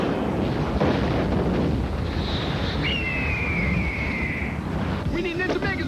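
Rockets fired from a giant robot in a 1995 Power Rangers movie battle: a loud, continuous roar of blasts and rumble with a rising whoosh of a rocket launch, over an ongoing dense soundtrack.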